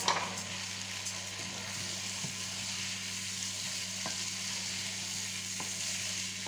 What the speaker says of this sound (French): On va ajouter nos lentilles.